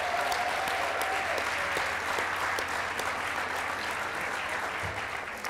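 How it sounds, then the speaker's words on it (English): Sustained applause from a conference audience in a hall, steady and full for several seconds, honoring a production crew at a closing plenary. "Can you get a round of applause for them?"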